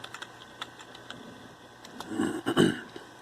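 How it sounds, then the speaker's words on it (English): Quick taps on a computer keyboard while entering a password on a Linux machine, a sparse run of light clicks building into a denser burst of keystrokes, close and fairly quiet. "Of course, you got to type in your password."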